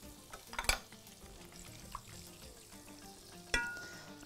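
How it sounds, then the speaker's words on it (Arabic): Almonds fry in a pan until golden for a couscous dish, a soft, quiet sizzle broken by a couple of sharp clacks from stirring. "احط اللوز كده واسيبه لحد ما يتشوح ويبقى لونه ذهبي."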